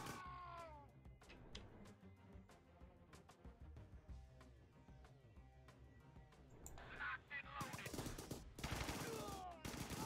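Rapid machine gun fire from massed elite machine gunners in the Thunder Run: War of Clans PC web game, a steady stream of sharp cracks that grows louder and denser toward the end.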